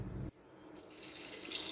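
Water poured into a cooking pot of mutton being stewed, a short steady splashing rush after a brief sizzle-like lead-in, close and moderately quiet.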